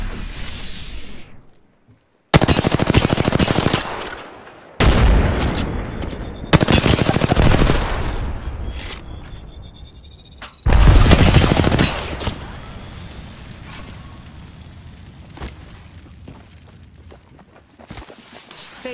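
Bursts of gunfire in the video game Apex Legends, loud rapid volleys firing in several separate stretches with short pauses between them, then fading into quieter clatter and scattered shots near the end.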